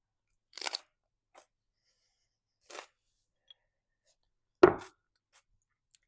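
Close, isolated crunchy bites while eating hummus topped with roasted pine nuts, a handful of separate crisp chews spaced out among silent pauses, one louder crunch near the end.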